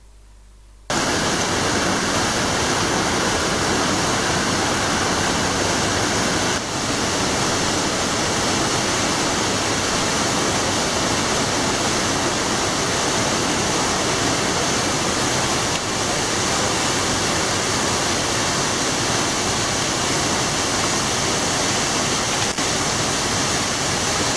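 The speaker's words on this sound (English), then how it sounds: "Rappel, cave, waterfall." Waterfall pouring inside a cave, a dense, steady roar of falling water filling the space, loud and unbroken throughout with no voices.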